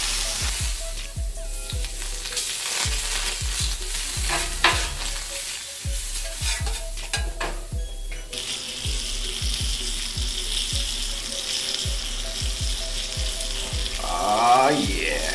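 Pancakes and butter sizzle steadily on a 36-inch Blackstone griddle, with a spatula scraping and tapping the flat-top in a repeated rhythm over the constant frying hiss.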